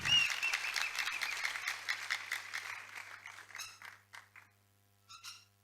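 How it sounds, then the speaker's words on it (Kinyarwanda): Church congregation breaking into a burst of applause, dense clapping that holds steady and then thins to a few scattered claps before fading out. "mukomere Imana amashyi menshi cyane"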